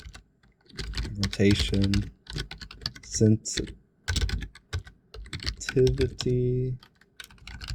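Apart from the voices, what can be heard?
typing on a computer keyboard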